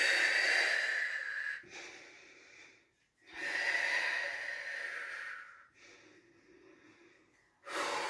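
Deep, audible breaths during a Pilates exercise: long hissing exhales and softer inhales alternate in a slow, steady rhythm, close to the microphone with no talking over them.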